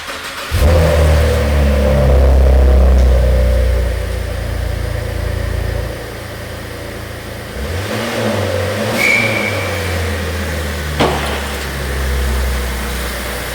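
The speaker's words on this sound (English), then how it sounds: "I'm going to switch on the vehicle." A Cadillac ATS-V engine starting up and running, with a strong loud rev at first that settles into a lower idle, followed by a couple of further blips of the throttle.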